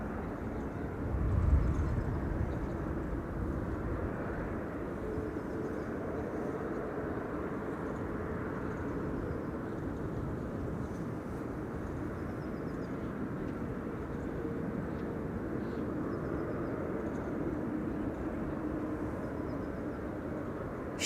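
A KLM Boeing 747 passenger aircraft at Amsterdam Schiphol Airport rumbles at a distance, a faint, broad, steady roar of jet engines lasting throughout.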